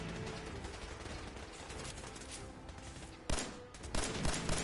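Gunfire in Fallout 4 combat: bursts of rapid cracking shots and mechanical clatter over a dense noisy background, with a sharp louder volley cutting in past the three-second mark and more bursts after, no talk.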